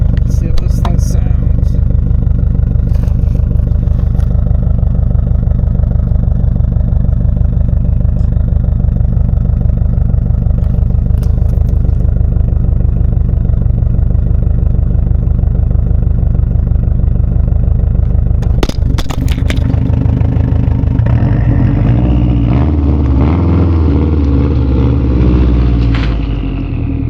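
A 2017 Subaru STI engine and exhaust rumble steadily and loudly for most of the run, then the tone shifts near the end as the engine note changes and revs fluctuate.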